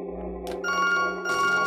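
A phone rings in the video game To the Moon, with a tonal electronic ring pattern over soft game music, playing alone without talk.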